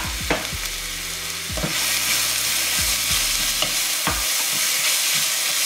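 Onions with curry leaves and green chillies sautéing in hot oil with fennel seeds for a chicken leg curry, a steady loud sizzle broken by several sharp scrapes and knocks of a spoon stirring the pan.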